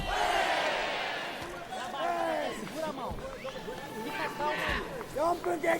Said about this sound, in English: Even when they're not that effective, they're still cheering